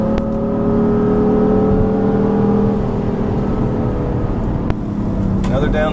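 A 2015 BMW M3/M4 engine drones steadily at speed on the Road America race track, a sustained in-car tone with a slight pitch change near a short shift to fourth, while a driver talks over it.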